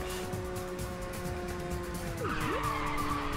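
A racing car in the video game Ridge Racer 6 skids with a rising tire squeal over a steady engine drone, moderately loud across a few seconds, with no voices.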